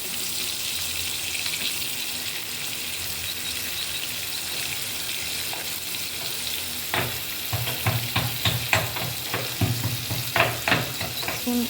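Chopped onion goes into hot oil for a dried-fish and taro-stolon curry, giving a steady sizzle that turns into louder, irregular stirring clatter and crackle partway through, close by with no talk.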